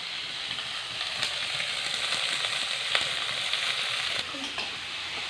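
Chopped onions fry in a pan with a bright, continuous sizzle, crackling close up with occasional sharper pops and stirring scrapes.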